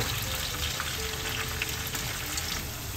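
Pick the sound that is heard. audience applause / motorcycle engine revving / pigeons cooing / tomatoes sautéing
tomatoes sautéing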